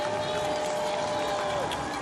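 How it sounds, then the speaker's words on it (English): Crowd cheering for kayaker Nikita Setchell at a kayak cross final of the 2023 ICF Canoe-Kayak Slalom World Championships, a steady roar of distant spectators throughout, with a commentator talking over it. "Crowd getting behind Nikita"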